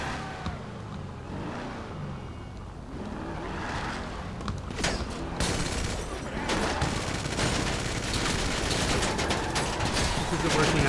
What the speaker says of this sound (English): We really have to switch to machine guns here.